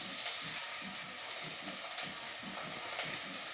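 Curry leaves frying in hot oil, a dense continuous sizzle with a faint pulsing crackle, close and steady throughout.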